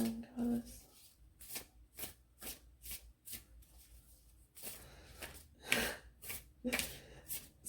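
Tarot cards being shuffled for a love reading, a run of crisp riffling bursts and soft slaps repeating roughly every half second, close and moderately loud, with a few breathy sounds between.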